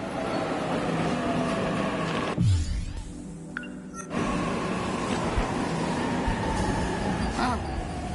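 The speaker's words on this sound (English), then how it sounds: "Train's already here." A train rumbles and roars in the video game 13 Sentinels Aegis Rim, a loud continuous rolling noise that briefly drops out before resuming, with faint high squeals over the steady din.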